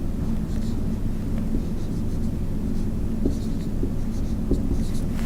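A pen drawing a line on a whiteboard or paper during an economics lecture, a soft steady scratching over a low room rumble, with faint broadband strokes and no talk.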